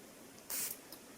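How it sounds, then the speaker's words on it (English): A Love Shack Fancy Boheme perfume bottle gives one short, crisp spray burst, a soft airy hiss that starts abruptly and fades within a fraction of a second, followed by a tiny second puff in an otherwise quiet room. "I'm going to spray it right now"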